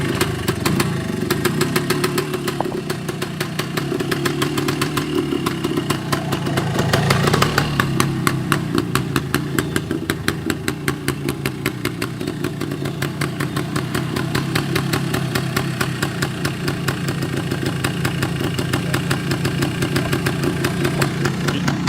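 A 1973 Yamaha DT3 motorcycle engine idles as it warms up after a cold first kick. It makes a loud, close, steady putter of rapid regular firing pulses, swelling slightly partway through. No one speaks.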